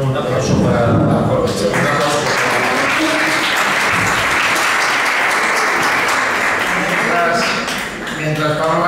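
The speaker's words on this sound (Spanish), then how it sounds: "Un aplauso para" Sustained audience applause at a school baccalaureate event, loud and dense for about eight seconds with a slight dip near the end, while a voice speaks over the clapping.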